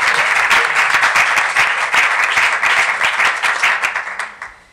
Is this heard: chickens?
no